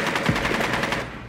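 Rapid automatic gunfire in Rainbow Six Siege, a quick evenly spaced burst of shots, close and loud, fading out at the end.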